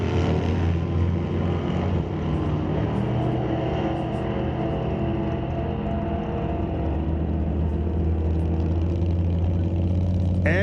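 A Chevy II and a C1 Corvette race side by side at an NHRA Canadian SPORTSnationals drag strip, their engines roaring loudly and steadily from start to finish.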